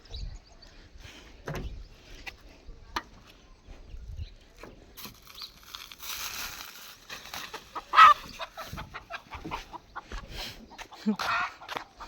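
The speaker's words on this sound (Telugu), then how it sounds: "దీంతోపాటు ఇక్కడ కోడి గుడ్లు పెడుతుంది" Hens cluck faintly at a spot where a hen lays eggs, with soft scattered calls under rustling and a person talking nearby.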